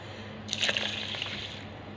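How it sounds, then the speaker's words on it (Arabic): Milk being poured into a pot for Egyptian rice pudding, a brief close splash that settles into a steady liquid trickle over a constant background hum. "احط 4 كوبايات لبن"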